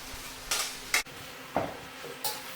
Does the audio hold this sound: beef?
yes